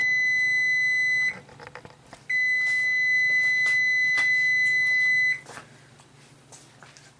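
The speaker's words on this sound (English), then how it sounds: "Turn off that timer" A kitchen oven timer beeps in loud, steady electronic tones, sounding in two long bursts separated by a short pause before cutting off, with a faint background hum.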